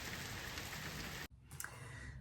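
Heavy rain pours down steadily on an overcast day, a dense, loud hiss that fills the scene, briefly dips, then resumes with a few louder drops against the surface.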